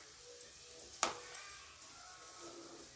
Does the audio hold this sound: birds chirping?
no